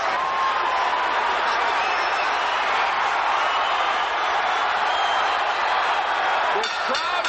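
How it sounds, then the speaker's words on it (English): A crowd at a boxing match cheers in a frenzy, a continuous loud roar of voices with some clapping, sustained and even throughout. "This crowd is in a frenzy"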